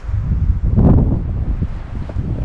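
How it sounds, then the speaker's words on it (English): Cold winter wind gusts across an outdoor campsite beside a Vanagon camper, a loud, low, rumbling buffet on the microphone that swells and eases. "The wind is cold."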